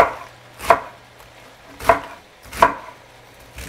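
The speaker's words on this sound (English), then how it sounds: "I just want to run the knife through it like that. So you're just slicing it into chunks" Three separate close knife strokes cut pork into chunks on a board, each a crisp, fairly loud thump with quiet gaps between, no talking.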